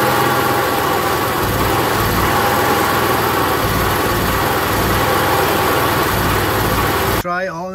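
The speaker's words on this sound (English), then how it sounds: "if you have a Onan 7000 or 5500, you experience the surging, that the engine is running lean" An Onan 5500/7000 Cummins generator engine runs lean and surges, a loud, close, continuous engine roar with rhythmic swells in its low throb, cutting off abruptly near the end.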